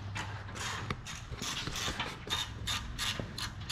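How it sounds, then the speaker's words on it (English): A ratchet clicks in quick repeated bursts as bolts are tightened on a skid plate under a Toyota Land Cruiser LC200/Lexus LX570, the metallic pawl ticking close and steady with brief pauses between runs. "you'll see Chip starting to tighten everything up"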